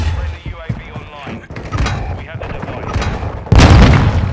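Video game gunfire in a Triple Feed Chimera match bursts out in rapid, loud shots with thumping impacts, turning into a heavy, dense volley near the end, with players talking over the shooting.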